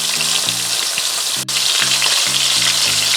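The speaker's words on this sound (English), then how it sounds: "These pieces of fish will be browned for 3 minutes on each side" Sea bass pieces browning in a hot pan for a Jamaican brown stew, a loud, dense and steady sizzle close by, with a faint repeating low hum underneath and a single brief dip midway.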